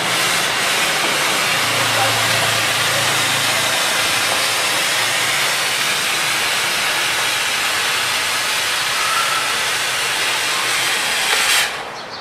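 Constant loud hiss of a disinfection fog machine spraying inside a closed car, a steady steam-like rush lasting throughout with a faint low hum early on and a brief change near the end.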